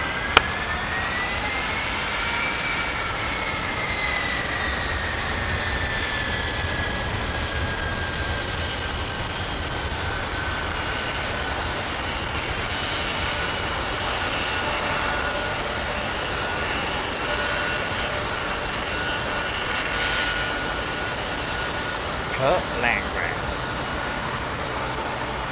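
A Boeing 767 jet airliner lands on runway 27L at London Heathrow, its engines a steady, loud roar held throughout with a rising whine, and a brief bump of noise near the end.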